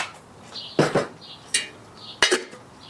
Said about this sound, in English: we're going to throw a cast iron skillet